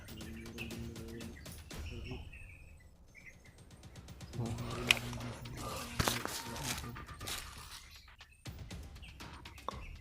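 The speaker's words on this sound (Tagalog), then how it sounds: "May nakita kaming ibon." Small birds chirping in a forest, brief tweets scattered among rustling and movement close by, fairly quiet overall.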